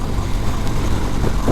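Stock exhaust of a 2020 Harley-Davidson Sport Glide, a deep, steady low rumble with a throaty tone, continuous and close without any talking.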